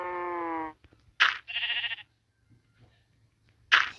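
Sheep in the Minecraft video game give short, quavering bleats in sparse bursts separated by silence, with a few sharp clicky game noises between them.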